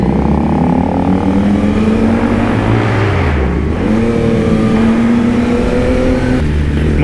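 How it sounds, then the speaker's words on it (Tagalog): A loud motorcycle engine roars steadily throughout, its exhaust note rising and falling with throttle changes, close and continuous with no talking. "Ito yung maingay trambutso."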